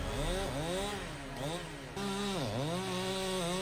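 A compact chainsaw cuts through a massive tree trunk, its engine holding a loud, steady buzzing whine that dips and rises in pitch as the chain bites into the wood.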